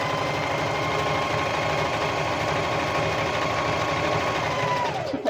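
A sewing machine runs steadily stitching fabric guided on a curve, a close, even mechanical whir with a rapid needle rhythm that holds throughout before slowing at the very end.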